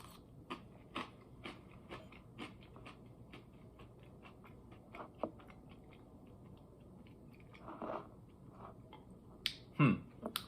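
Crunchy Cap'n Crunch cereal scattered on oatmeal being chewed, with close, irregular crisp crunches repeating throughout and a couple of louder bites near the end, no talking.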